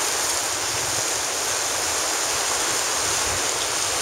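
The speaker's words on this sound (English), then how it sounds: "a little waterfall thing down here" A small waterfall beside old flour mill ruins in Minneapolis rushes in a steady, loud wash of falling water, unbroken and close, with no voices.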